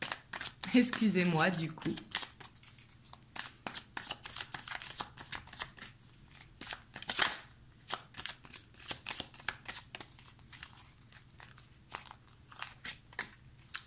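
Oracle cards shuffled in quick, crisp riffling bursts with card slaps and draws, close and steady, under a short stretch of a voice at the start.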